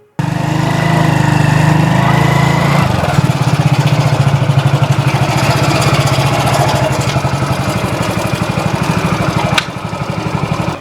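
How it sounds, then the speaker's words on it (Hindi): Small motorcycle engine running close by: a steady rumble that drops to a rough, pulsing idle partway through, then cuts near the end. Loud and alone, with no talk. "सीनू तने तो जमाई घर के आगे रोक दी बाइक"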